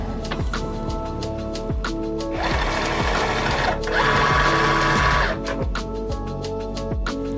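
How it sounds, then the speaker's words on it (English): A cutting machine loads its mat through pinch wheels, making a rhythmic mechanical whir with repeated quick clicks and a louder motor buzz in the middle, close and steady. "I'm going to push it up against the pinch wheel and hit the load mat button"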